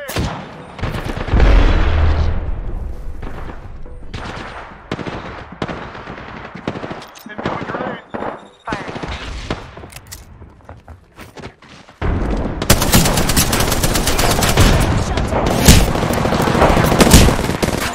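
Rapid automatic gunfire in the Apex Legends video game, loud repeated bursts with short gaps and a long continuous volley near the end.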